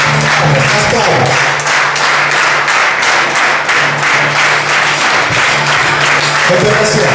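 A church congregation claps along to a worship song, steady rhythmic handclaps layered over loud music and singing throughout.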